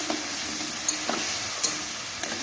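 Spice paste for a Bengali fish and potato curry fries in a pan, giving a soft, steady sizzle with a few faint spoon taps and no talking.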